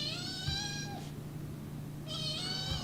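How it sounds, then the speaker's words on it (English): A cat lets out two drawn-out, wavering meows close by, with a gap between them, over a faint steady hum. "stop meowing so much"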